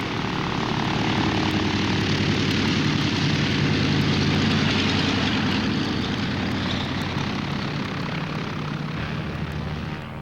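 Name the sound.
airliner engine at departure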